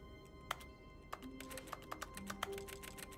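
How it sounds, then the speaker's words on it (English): Soft, clicky keyboard key presses from The Stanley Parable video game, a handful of separate taps spread unevenly over a faint background hum, with no talking. "when you press E, it makes it like sound like you're pressing a keyboard key"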